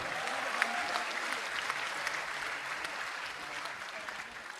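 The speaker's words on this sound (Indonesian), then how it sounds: "Tepuk tangan buat kita semua." Steady applause from a sizable crowd, dense clapping that holds at an even level throughout with no voices standing out.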